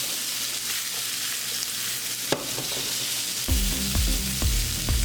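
Sliced pepperoncinis sautéing with zucchini and squash in sesame oil, a dense steady sizzle, then a low rhythmic rumble of tossing or stirring joins in the last second and a half, close and continuous with nobody talking.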